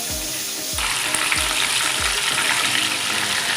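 Butter dropping into a hot pan where tuna is cooking, breaking into a loud steady sizzle after a few low knocks, then hissing evenly without pause.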